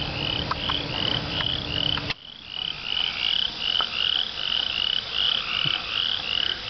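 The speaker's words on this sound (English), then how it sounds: "So the peepers are out." Spring peeper frogs calling near a bog at night, a dense chorus of high repeated peeps with a low rumble of insects beneath, steady and fairly close, no voices.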